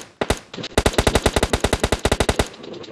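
A rapid burst of automatic gunfire in the battle royale game Free Fire, loud and close, fired as long strings of evenly spaced shots with a brief pause near the start and no talking.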